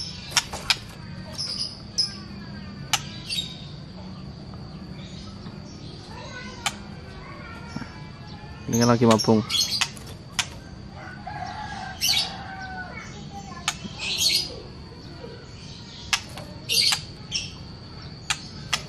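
A molting white-rumped shama calls in sharp bursts and a brief whistled phrase over steady insect chirring, with someone talking intermittently nearby.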